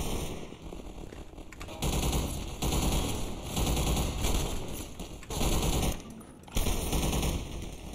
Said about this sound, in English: Someone is shooting.